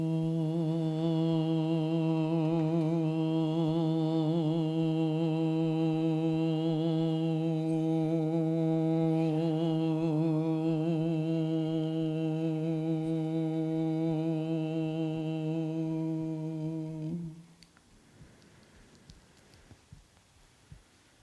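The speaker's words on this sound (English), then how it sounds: "and you'll make an O-ish sound." A human voice sustains a long, steady Om tone through puffed cheeks, a resonant humming drone with a faintly shifting upper tone, held for about seventeen seconds before stopping into near silence.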